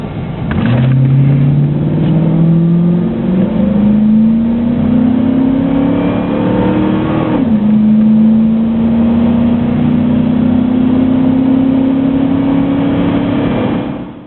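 A 5.9-liter V8 in a Dodge Durango with a four-speed automatic accelerates hard, its engine note climbing steadily in pitch, dropping briefly at a gear change, then rising again, loud and continuous throughout.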